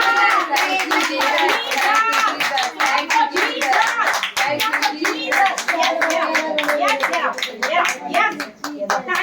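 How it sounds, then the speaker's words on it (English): A church congregation claps hands rhythmically during praise and worship, the sharp regular claps running beneath continuous chanted talk and singing, with a voice among them. "Clap for Jesus."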